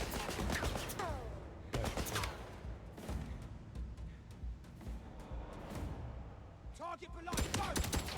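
Heavy gunfire in a spy action scene: repeated loud bursts of shots and impacts, with vocal exclamations overlapping amid dense, chaotic battle noise.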